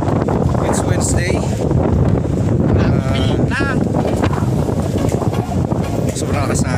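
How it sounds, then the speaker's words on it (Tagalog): Strong early-morning wind on Mt. Mandalagan roars and buffets the microphone continuously, with a faint bleating-like cry partway through. "Sobrang lakas na hangin."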